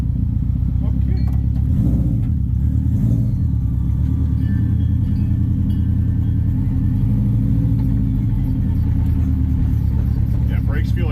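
A finished drift car's engine rumbles loud and close throughout, with a few sharper throttle blips early on, while people talk over it.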